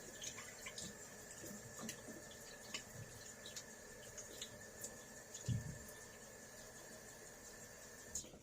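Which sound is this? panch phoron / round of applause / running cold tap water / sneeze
running cold tap water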